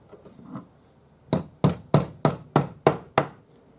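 Metal punch hammered into a depression to forge a ring hemisphere, about seven sharp, ringing blows in an even rhythm, close and clear after a few soft taps.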